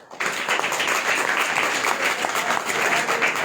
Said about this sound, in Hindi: एक बार फिर से इस व्यक्ति के लिए ताली बजाओ।